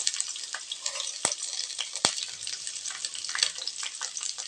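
Onions fry in a pan with a close, continuous sizzle, broken by a couple of sharp clicks and knocks from stirring, with no voices.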